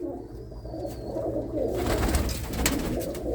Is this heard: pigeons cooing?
yes